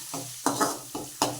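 Cumin seeds sizzling in hot oil, a close crackling fizz with stirring scrapes coming in short repeated bursts, no voices.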